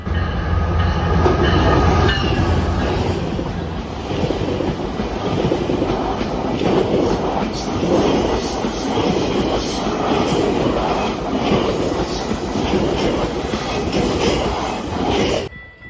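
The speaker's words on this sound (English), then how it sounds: "Here comes the train." A commuter train rumbles past close by at a station in Unionville, steady loud roar with rhythmic clickety-clack of wheels and a faint high squeal throughout.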